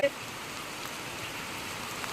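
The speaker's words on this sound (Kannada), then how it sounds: "ಎಷ್ಟು ಜೋರು ಮಳೆ ನೋಡಿ" Steady, dense hiss of rain falling, fairly quiet and even throughout with no voices.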